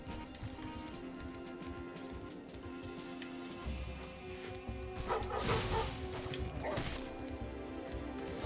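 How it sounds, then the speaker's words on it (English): Dogs barking in the video game Spyro the Dragon, a busy, continuous mix of yips and barks with clip-clop sounds over steady game music. "Goddamn doggos."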